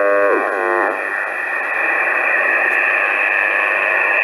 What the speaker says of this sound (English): So that's typical plasma TV noise